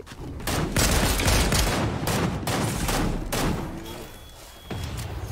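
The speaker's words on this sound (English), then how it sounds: "Bunch of Greg shooting over here." Rapid gunfire in the video game Fortnite, a dense fusillade of loud repeated shots in uneven bursts that continues for several seconds before tapering off.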